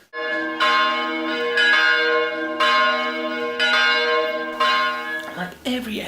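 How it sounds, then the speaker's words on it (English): Church bells ring out in an Italian town, loud and close, with repeated resonant strikes overlapping into a sustained, shimmering peal. "The church bells ring, people were having a mass"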